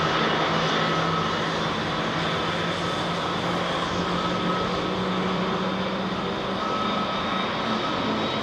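Jet engines on an Airbus A330-300 at Heathrow spool up in a long, steady roar with a sustained whining tone, loud and unbroken throughout.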